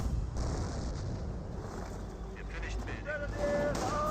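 Nebelwerfer rocket artillery strikes in Company of Heroes, heard as muffled booming impacts and rumbling blasts under busy battle noise, with a few tonal whistles near the end.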